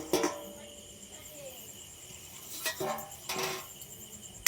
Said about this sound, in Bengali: 5 মিনিট পর আমি ঢাকাটা খুলে দেখব ডিম কটা আমার সিদ্ধ হয়েছে কিনা